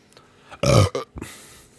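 One loud, guttural burp erupts during a podcast beer tasting of Chimay Grand Réserve, a short throaty blast followed by a couple of small trailing sounds, close to the microphone.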